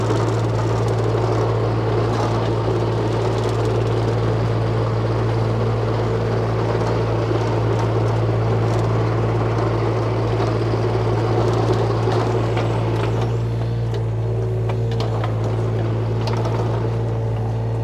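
A 2006 John Deere 35D mini rubber track excavator engine running steadily, a loud, continuous low droning hum with a strong constant tone, close by and unchanging throughout, no voices.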